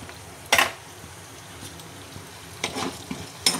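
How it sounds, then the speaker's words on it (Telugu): Urad dal, peanuts and toor dal fry in a pan with a soft, continuous sizzle, broken by a few sharp scraping bursts of stirring close by. "ఇవన్నీ బాగా వేగనివ్వాలి."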